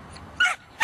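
A dog gives two short, sharp yips or barks during a training session, close by and alone with no talk over them.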